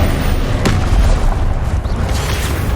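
A Confringo fire spell explosion in Hogwarts Legacy, a loud, deep booming roar with a sharp burst near the start that rumbles on continuously.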